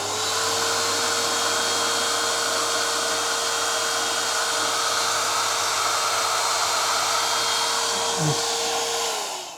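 A Henry 9L vacuum cleaner runs continuously with a loud, steady motor whine and airy suction roar, close by and unbroken, with a brief shift in pitch near the end.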